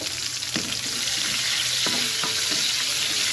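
Onions fry in oil in a pan with a loud, dense, continuous sizzle up close, a few clinks of stirring coming through the hiss.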